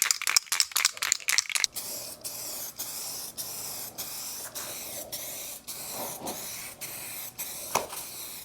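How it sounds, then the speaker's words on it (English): An aerosol rattle can of clear coat being shaken hard, the mixing ball clattering in a fast burst of rattles, then settling into slower, regular shakes with a faint hiss between strokes, close up and alone. "Now we'll just shake this up for a while."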